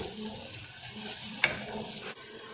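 Garlic and mushrooms sizzle in a little butter for a mushroom sauce, a steady close frying hiss with brief stirring scrapes and clicks of a utensil in the pan, no talk.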